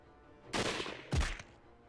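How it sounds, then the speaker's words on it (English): Two quick gunshots ring out in Hakuoki: Kyoto Winds, a sharp blast followed a half-second later by a second, heavier crack. Both are loud, close and alone, with no voices. "Then I heard another gunshot."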